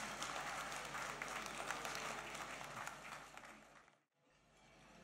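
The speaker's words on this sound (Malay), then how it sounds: "tepukan gemuruh untuk Orkestra Sekolah Seri Puteri" A seated audience at a Selangor Teachers' Day ceremony gives thundering applause for a school orchestra, dense steady clapping for about four seconds before cutting out abruptly, then quieter room tone.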